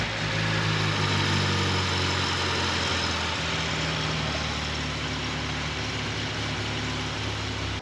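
A Datsun 510 rally car engine idles steadily on its first startup after restoration, a low, rough rumble and vibration, running continuously and close by with no voices.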